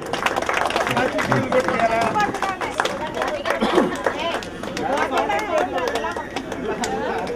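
An indoor audience claps for Sunil, a BHA worker, at a ceremony. Scattered, uneven hand claps build into applause over a busy murmur of chatter and overlapping voices.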